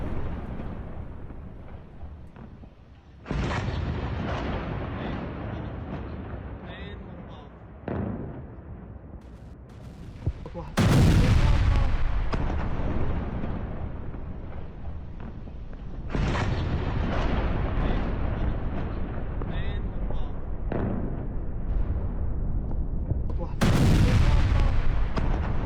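Explosions and gunfire from attacks on the Latakia and Tartus bases: loud, dense booms and blasts come in repeated bursts over a sustained rumble, with a few sharper cracks, and no talk over it.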